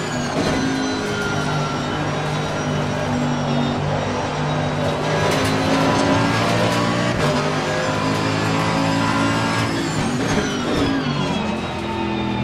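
A Corvette race car with a dual-clutch transmission in Assetto Corsa Competizione, its engine droning steadily and loudly with rising and falling harmonic pitch as it accelerates and shifts, continuous throughout.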